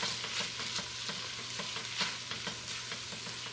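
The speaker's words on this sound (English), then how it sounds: "a nice tablespoon of tomato paste. This. Okay. Mix it all in there." Tomato paste being stirred into a frying base for Puerto Rican ham and noodle soup, with rhythmic scraping strokes repeating about twice a second over a continuous sizzle, close and without talking.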